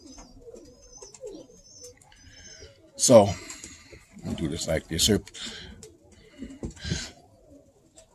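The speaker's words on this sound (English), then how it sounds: "2 jack-in-net pigeons, a hen and a cock" Soft coos from jack-in-net pigeons, a hen and a cock, repeat near the mic, with someone talking over and between them.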